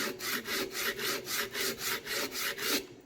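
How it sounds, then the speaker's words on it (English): A sanding block rubs back and forth on the corners of a wooden birdhouse piece in a light, rhythmic scrape. About ten even strokes come close and clear with no voices. "Grab your piece of wood and just a light sanding on the corners"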